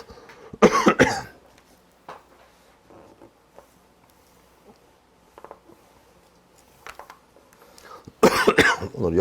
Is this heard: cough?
yes